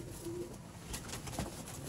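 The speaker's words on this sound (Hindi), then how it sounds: "देखो दोस्तों मास्टर वाले मोतियां वाले कबूतर" Pearl-eyed pigeons of the Master Abdullah strain give low, soft coos close by, a steady murmuring purr with a short higher chirp near the end.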